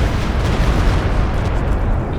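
A Walking Stuka rocket barrage in a Company of Heroes 2 battle rumbles as a loud, steady wash of explosions with no clear gaps between the blasts.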